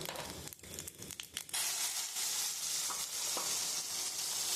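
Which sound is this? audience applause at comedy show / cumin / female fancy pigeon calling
cumin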